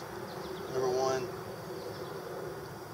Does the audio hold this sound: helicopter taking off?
no